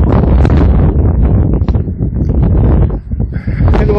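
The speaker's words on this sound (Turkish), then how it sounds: "rüzgar çok." Strong wind roars and buffets the microphone during a large wildfire in the Akkum neighbourhood of Narlıkuyu, Silifke, a loud continuous rush with brief lulls.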